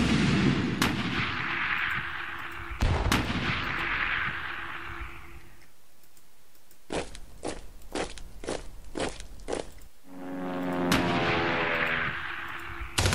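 Gunfire and artillery in a strategy war game, with heavy booming blasts that roll out into long rumbling decays, then a quick burst of sharp repeated shots before more explosions, all loud with no talking.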